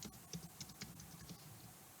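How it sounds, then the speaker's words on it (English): Typing on a computer keyboard, a quick run of light irregular clicks and taps, close and fairly quiet, tapering off toward the end. "This time we're going to type an incorrect answer."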